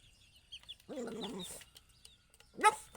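A chicken clucks close by in a short run of throaty notes, with a higher squawk near the end against a quiet background.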